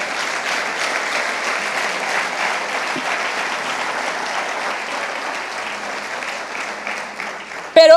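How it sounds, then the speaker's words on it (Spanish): A church congregation claps loudly and steadily for several seconds during a Spanish-language service on tithing, the applause dense and even before a voice cuts in at the end. "Entonces dale fuerte el aplauso al Señor."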